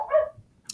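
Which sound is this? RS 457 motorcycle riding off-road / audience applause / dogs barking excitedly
dogs barking excitedly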